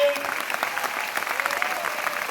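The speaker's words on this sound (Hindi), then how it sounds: "एक बार बढ़िया ताली बजा दो आप।" An audience at a leadership development program in Delhi breaks into brisk, steady applause, many hands clapping together at an even level throughout, with faint voices mixed in.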